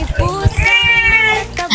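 A cat being bathed meows loudly and insistently in a long, drawn-out wail, with splashing and handling noises underneath.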